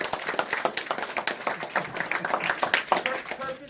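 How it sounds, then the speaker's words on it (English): An audience at Iglesia Hispana Victory claps in a scattered, fairly quiet round of applause for an 11-year-old from Long Beach. The clapping is uneven and crackly. "Give him a round of applause."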